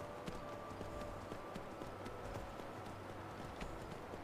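Continuous rhythmic clip-clop of horse hooves at a steady trot in the video game Skyrim, moderately faint, over a dense noisy background.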